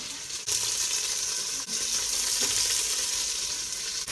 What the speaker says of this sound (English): I'm just basically stir-frying this together